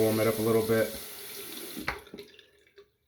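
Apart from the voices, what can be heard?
hot water running onto a razor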